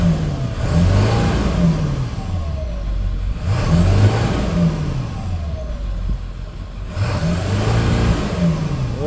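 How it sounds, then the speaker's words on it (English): A 2003 Ford F550 with a 7.3 diesel engine revs up loudly three times in a steady rhythm, each climb in pitch followed by a settle, heard up close with no talking. "Now let me rev it up so you can hear this engine"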